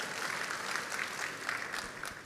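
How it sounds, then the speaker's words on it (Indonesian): A church congregation at an onsite service applauds, a soft, distant wash of many hands clapping steadily without pause. "Tepuk tangan dong buat gerejamu."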